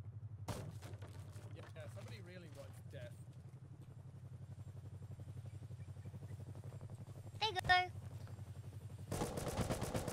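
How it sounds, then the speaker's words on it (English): Rapid bursts of automatic gunfire in the survival video game Rust ring out over a steady low engine-like hum, with one louder burst near the end, while players talk over it. "there's a lot of shooting going on there."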